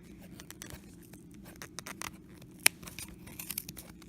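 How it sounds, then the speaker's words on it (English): Scissors snip through the yarn of a handmade pom-pom in a series of soft, close crunching cuts, with one sharp louder snip partway through. "you take a pair of scissors, then cut"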